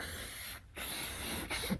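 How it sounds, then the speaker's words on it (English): Short hissing bursts of aerosol spray on a Kawai K4 piano keybed during repair, close up, with two brief pauses between them. "So spray it on, give it a chance to dry."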